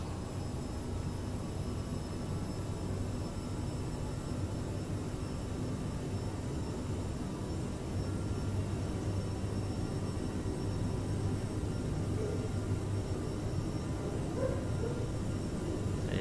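Boeing 737 airliner taking off in a PMDG flight simulator, a steady, fairly loud broadband engine roar with a low rumbling drone, continuous and unchanging throughout with no talking.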